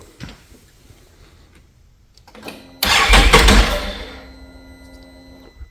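A Can-Am Outlander 850 ATV that fails to start cranks over: a short starter whir, then a loud burst of engine turning that fades into a lingering hum, with no voices.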